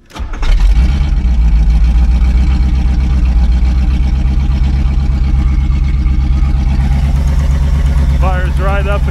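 A C4 Corvette engine catches loudly and settles into a steady, close rumbling idle near 1,000 rpm, with a voice speaking briefly over it near the end.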